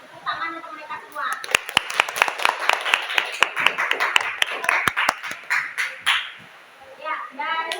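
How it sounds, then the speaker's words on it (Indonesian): Classroom applause for student groups after their presentations, sharp claps rising and falling over several seconds amid children's chatter and voices. "Kita berikan apresiasi dengan tepuk tangan untuk mereka semua."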